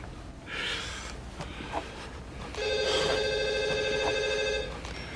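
A telephone rings in a prison library, a repeating electronic trill that lasts about two seconds over a low room hum, close and fairly loud, with soft breathing just before.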